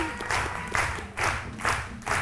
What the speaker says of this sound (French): Son nom, c'est Adam Konaté, que je vous demande d'applaudir.